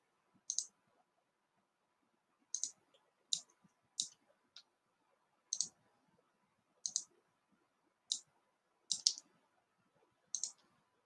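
A computer mouse clicks sharply about nine times at uneven intervals over a quiet background while working in OnShape CAD software, each click crisp, close and isolated.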